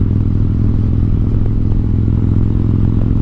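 A Harley-Davidson motorcycle is ridden on a snowy winter road, its engine giving a continuous low, throbbing rumble mixed with steady wind and road noise throughout.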